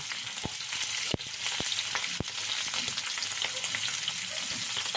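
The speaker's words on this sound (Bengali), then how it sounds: "তেলটা গরম হয়ে গেল তারপরে এখানে আলুগুলো দিয়ে দিলাম সেদ্ধ করে রাখা আলুগুলো এবার একটু সামান্য নুন হলুদ দিয়ে আমি ভেজে তুলে রাখবো" Boiled new potatoes fry in hot oil with salt and turmeric, producing a continuous close sizzle with a few sharp clicks and knocks of the pan or spoon scattered throughout.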